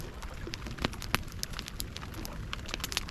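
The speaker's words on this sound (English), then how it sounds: "It's actually raining a lot more now." Rain patters at a campsite beside a campfire, with scattered sharp drips and crackles over a soft, steady hiss, fairly quiet and close.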